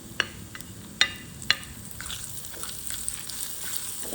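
Anchovies fry in oil in a pan, giving a soft steady sizzle broken by a few sharp pops and spatters, close and fairly quiet, with no talking.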